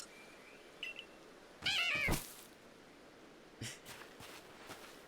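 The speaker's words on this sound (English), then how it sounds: "Aw, its little meow is adorable as well." Glameow, a cat Pokémon in Pokémon Legends: Arceus, gives a short, bright game-cry meow near the middle, alone over quiet background ambience with a few faint clicks.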